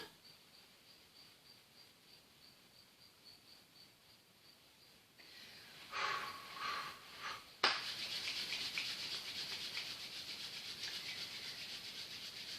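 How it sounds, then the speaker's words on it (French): Hands rubbing the skin under the nose and mouth during a qi gong self-massage, a soft steady friction that grows louder and rougher partway through, close and continuous with no talk. "on va frotter sous le nez et l'autre main sous la bouche"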